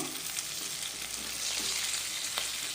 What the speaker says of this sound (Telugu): నేను తక్కువ ఆయిల్తో ఫ్రై చేస్తాను చూస్తారు కదా మూత పెట్టుకుంటే చేప అనేది కుక్ అవుతుందండి